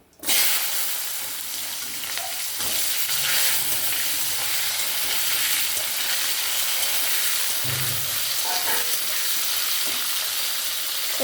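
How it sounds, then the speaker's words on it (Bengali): Potatoes and pointed gourd sizzle in hot oil tempered with cumin seeds and bay leaf, with salt and turmeric added; a close, steady, continuous frying hiss with light stirring sounds throughout. "এর মধ্যে একটু নুন আর হলুদ দেবো, আলু পটলটা ভালো করে ভাজবো"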